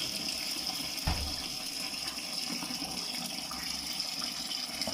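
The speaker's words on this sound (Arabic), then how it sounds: "كنطلقوا الماء بارد" Cold tap water runs steadily over freshly cooked tagliatelle in a kitchen, a continuous close rushing and splashing with a brief louder gush near the start.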